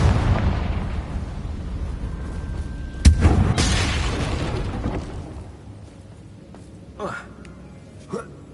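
A Confringo blasting spell from the Hogwarts Legacy video game detonates in a loud, broadband boom with a brief crackling tail, followed by quieter magical pops and whooshes later on.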